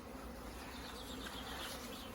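Dense, steady buzzing of many honey bees swarming close around an open beehive on a sunny day, a continuous drone with no voices.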